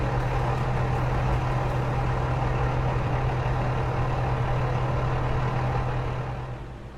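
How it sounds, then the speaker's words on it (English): A truck engine idles steadily with a deep, constant rumble and hum, close by and loud, fading slightly at the very end. "now that I don't hear the truck over you."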